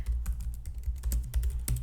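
Quick bursts of keystrokes on a computer keyboard as a word is typed out, close crisp clicks in an uneven rhythm with a few louder key presses, no speech.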